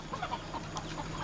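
Chickens cluck softly nearby, a few short, scattered clucks over a quiet background with no one speaking.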